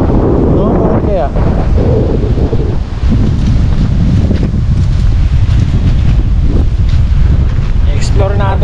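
Heavy wind buffets the microphone in a constant low roar beside a rocky river, with rushing water beneath and brief faint voices near the end.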